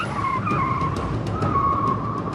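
A lightweight car launches from a standing race start, its tyres squealing and skidding in a long wavering screech over a steady engine roar, loud and close throughout.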